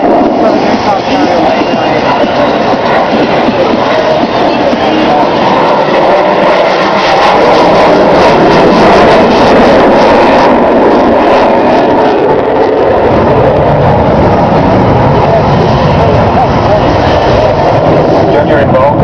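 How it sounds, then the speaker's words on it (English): An F/A-18F Super Hornet makes a slow dirty pass at an air show with gear and hook down, a loud sustained jet roar swelling and fading across the whole stretch under an announcer's commentary over loudspeakers. "Coming past for the dirty pass now, gears out, rest the hook"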